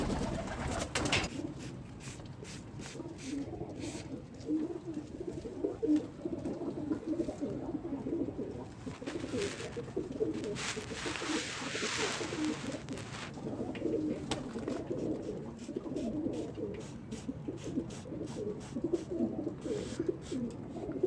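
Pigeons coo steadily and close by, soft overlapping calls running throughout with no talk, from a flock of flying pigeons being colour-marked.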